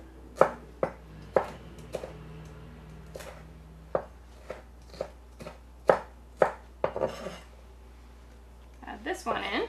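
A knife chops food on a cutting board in a string of sharp, close, irregular knocks, with a burst of faster clatter at the end.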